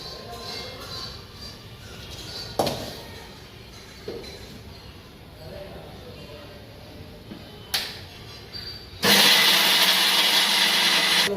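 A mixer grinder grinds fried muthiya for laddoos: a few clanks and knocks give way to a sudden loud, continuous whirring roar in the last few seconds.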